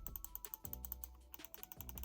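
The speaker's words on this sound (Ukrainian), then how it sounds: "Теж чіткі такі кнопки, гарний приємний клік." Side buttons on an EWEADN S9 Pro gaming mouse are pressed repeatedly, producing a quick, crisp run of close plastic clicks at a fairly steady rhythm.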